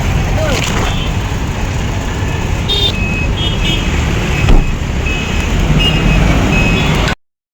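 A car slowly edging forward to park on a busy road at Shapur, engine and traffic murmur throughout with scattered short horn toots and beeps, fairly close.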